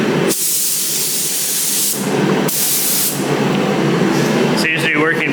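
Aerosol primer sprayed in light coats onto car bodywork, several long hissing bursts with short gaps, close and loud, ending in a brief rattling tail.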